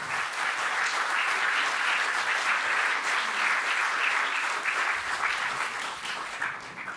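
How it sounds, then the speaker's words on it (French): Warm, sustained applause from a concert audience welcoming guitarist Adrien Siegel at a tribute concert, even and full before gradually thinning toward the end. "on va accueillir et applaudir très fort Adrien Siegel à la guitare"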